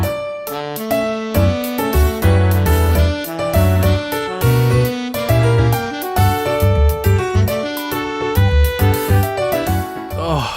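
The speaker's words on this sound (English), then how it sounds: "But then you hear the Jubilife City theme in Brilliant Diamond and Shining Pearl?" The Jubilife City theme as remade for Pokémon Brilliant Diamond and Shining Pearl plays loud and clear, a gentle saxophone melody over bells, percussion and a bouncing bass line in steady rhythm.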